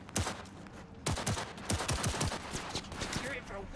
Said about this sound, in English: And now I'm getting shot from behind!